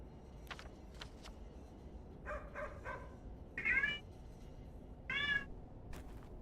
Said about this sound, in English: I know you guys hear those meows.